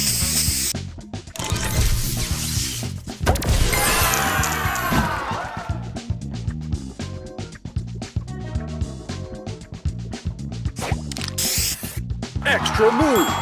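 A spray booster fires in the Color Crystals Rainbow score rally of a puzzle game, with a bright whooshing spray burst and crashing, sparkling effects over energetic game music and chimes, plus short announcer callouts between.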